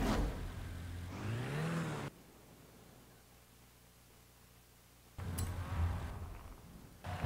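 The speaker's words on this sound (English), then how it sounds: "the sound that this car produces is very good and very tasty" Ferrari 488 Challenge race car engine in Forza Horizon 5, revving up in two loud bursts with rising pitch sweeps, separated by a quieter stretch of idle hum and hiss.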